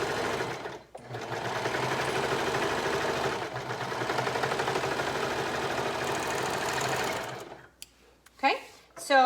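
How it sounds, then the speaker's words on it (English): A sewing machine stitches down the side of a fabric pocket in a steady, continuous mechanical whir that runs close and loud for most of the stretch, with two short pauses, then stops and is followed by brief handling noises. "we're going to go ahead and take that as a win and sew the other side of the pocket"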